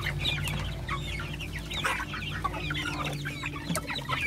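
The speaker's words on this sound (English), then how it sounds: "These are meat birds." Meat chickens cluck in a steady, overlapping chatter that runs close by throughout, with occasional sharper calls from individual birds over a low farmyard hum.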